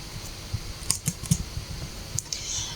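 Computer keyboard being typed on to delete text: a quick, irregular run of light, close key clicks with a few louder taps, alone and with no talk.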